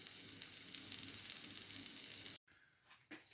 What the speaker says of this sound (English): So that's the burger fried off.